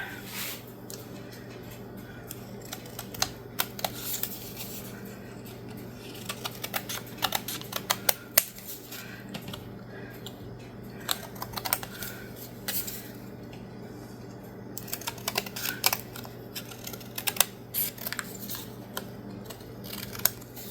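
Scissors snip through paper or card to trim the white edges off a picture for a craft frame, giving a long run of sharp, irregular close cuts and clicks with no talking.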